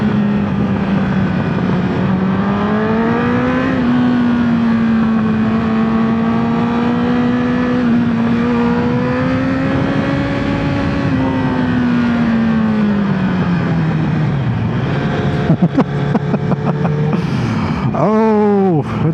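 A Honda Fireblade sport motorcycle engine drones steadily at low revs around 40 with a throaty rumble, pitch rising and falling gently, then sharp pops and revving near the end.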